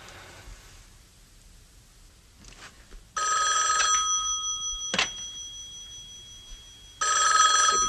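A classic telephone bell rings in loud, bright bursts, one short ring and then a longer sustained ring, separated by a quiet pause and followed by another ring starting, in an indoor scene from the 1964 film The Young Lovers.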